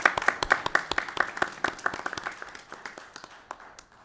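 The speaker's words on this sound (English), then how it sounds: "I want to give him a round of applause if it's all right" A round of applause at a county commission meeting, a modest crowd's scattered claps fairly close, fading out over a few seconds.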